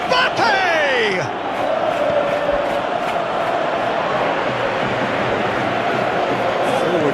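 A football stadium crowd roars in a steady, dense wash of cheering throughout, with a brief whistle-like tone near the start.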